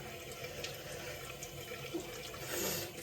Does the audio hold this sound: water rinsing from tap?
yes